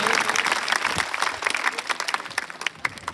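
An audience claps steadily and warmly at a school farewell function for a teacher, a dense burst of applause from a gathered crowd that continues throughout.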